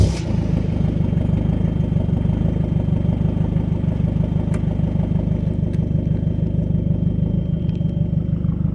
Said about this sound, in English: That just sounds like a normal car exhaust rumble